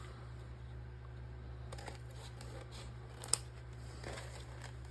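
Scissors snip through paper while a paper craft decoration is trimmed: a few faint, sparse cuts and rustles over a low steady hum, with one sharper click near the middle.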